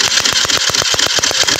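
A motorcycle engine with a previously stalled, non-starting problem sputters rapidly in a fast, even chugging rhythm, loud and close, as if just catching after being started.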